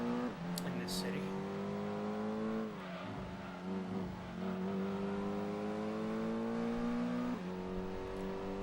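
A Corvette race car engine in the Gran Turismo 2 video game holds a steady, loud revving drone with gear shifts and rising pitch, running continuously under a player's talk.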